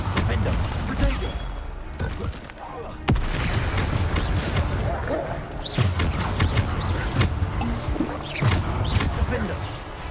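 Bombarda explosive spells in the Hogwarts Legacy video game go off in several heavy, crashing blasts spread across the scene, interleaved with shouting voices and combat clatter.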